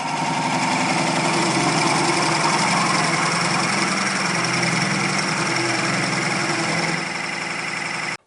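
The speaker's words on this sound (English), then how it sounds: "So I'll carry on drilling." A drill bores into a turned wooden cube box held on a woodturning lathe, giving a continuous loud grinding whir with rumbling motor noise that stays steady for several seconds before easing slightly near the end.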